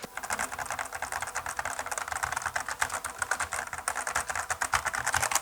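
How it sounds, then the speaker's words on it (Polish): Fast, steady typing on a mechanical keyboard gives a dense stream of clacking keystrokes, close and fairly loud, with no voices. "Nie jest to najcichsza klawiatura, jaką, mieli, jaką mieliśmy do czynienia."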